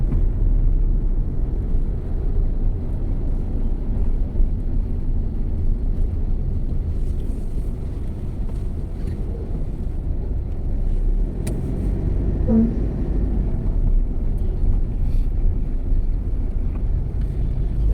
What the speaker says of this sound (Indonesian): Banyak mobil-mobil besar, memang jalurnya sih di sini.